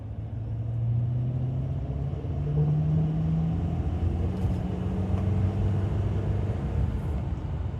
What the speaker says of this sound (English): this is the heavy trailer tow on the road.